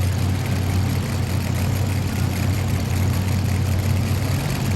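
A modified pulling tractor powered by three blown Chevrolet engines rumbles with a steady, heavy low-pitched drone, loud and continuous, with no voices heard.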